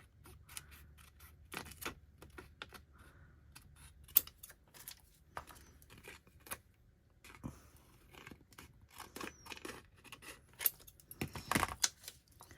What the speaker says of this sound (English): I'm just going to cut this in half because it goes for two sides